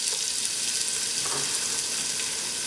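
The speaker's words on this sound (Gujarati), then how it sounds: "આપણે ડુંગળીને થોડીક વાર તળશું, જરાક સોફ્ટ થઈ જશે" Onion sizzles steadily in hot oil in a pan for a pigeon pea pilaf, a close, even frying hiss with a few light stirring scrapes and no talk.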